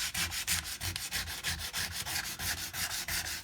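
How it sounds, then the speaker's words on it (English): A cigar box guitar body is sanded by hand with coarse 60 grit sandpaper, producing a steady rhythmic rasping scrape with quick back-and-forth strokes, close and fairly loud, with no voices. "then I start off with 60 grit sandpaper"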